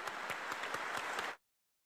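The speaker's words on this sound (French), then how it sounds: "Et nous, on doit tous applaudir." A crowd applauding the San Gennaro miracle, with dense, steady clapping from many hands for a little over a second before it cuts off abruptly into silence.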